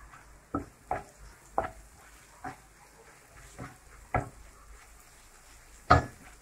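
Scattered soft scrapes and clicks of a utensil stirring paprika and spices in a pan, one louder knock near the end, quiet and close, no talking.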